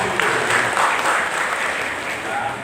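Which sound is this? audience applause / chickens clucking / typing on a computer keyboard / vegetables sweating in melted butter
audience applause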